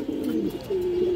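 An army pigeon pair coos close by: two drawn-out, wavering low coos, the second steadier and louder, with nothing else heard.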